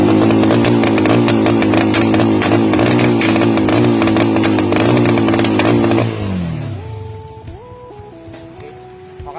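A misfiring engine runs roughly and loudly up close with rapid popping backfires through the exhaust pipe, then shuts down and winds to a stop, leaving quieter background noise.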